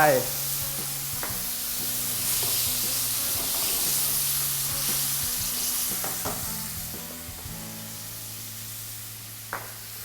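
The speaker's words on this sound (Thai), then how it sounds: "น้ำเปล่าหรือน้ำซุปนะครับ ใส่ลงไป" Water or broth poured into a stir-fry pan of sea bass with Chinese bamboo shoots, giving a broad, steady sizzling hiss with steam and a few clattering stirs throughout.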